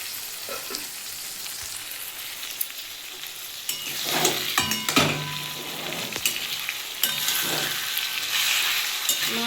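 Potatoes and onions fry in a pan for a prawn and flat-bean curry, a close crackling sizzle that grows busier midway with repeated stirring scrapes and clinks, no voices.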